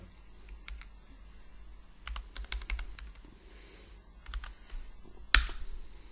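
Typing on a computer keyboard while entering a wall angle in Archicad: scattered bursts of quick light key clicks close by, ending in one sharp louder keystroke for Enter.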